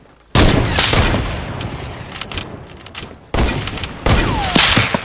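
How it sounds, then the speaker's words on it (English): Heavy sniper rifle gunfire in Fortnite battle royale: loud, sharp shots crack out at the start and again near the end, with sustained rumbling echoes filling the gaps between. "Sniper rifle build battles"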